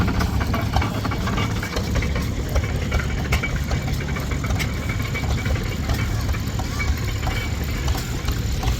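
A steam engine runs steadily at an agricultural show with tractors on display, its low rhythmic chugging and mechanical knocking continuous throughout, with faint crowd voices in the background.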